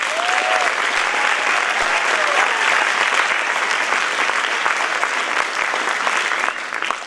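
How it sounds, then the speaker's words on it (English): A school audience at a spring concert applauds the jazz big band, a loud, dense, continuous wash of clapping that holds steady and eases slightly at the end. "please give a round of applause to our big band, our jazz band"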